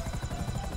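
A helicopter in the video game GTA V, a close, steady rotor thrum with a fast pulsing chop, heard alone for under a second.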